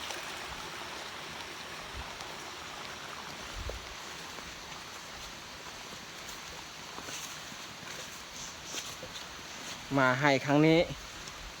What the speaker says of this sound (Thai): คือฝนมากระทันหันระหว่างกลางทาง